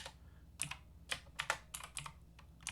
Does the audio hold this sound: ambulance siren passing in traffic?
no